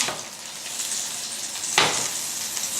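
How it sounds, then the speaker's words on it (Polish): Butter melts in a frying pan with a soft, steady sizzle, broken by a brief louder scrape or stir partway through; the sound stays fairly quiet, with no talking. "Pięknie nam się rozpuszcza masełko."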